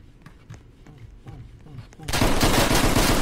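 Bursts of rapid video game gunfire break out loud and dense, opening after a stretch of scattered thuds and quieter sounds and sustaining through the end, with talk mixed in.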